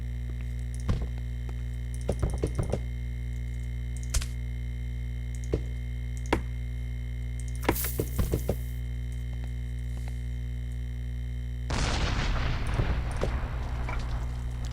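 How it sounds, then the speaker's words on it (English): A Minecraft explosion blasting through sandstone, a loud broadband burst around eight seconds in, followed by a longer crackling rumble of debris near the end over a steady tonal game hum and scattered short clicks. "Big explosion."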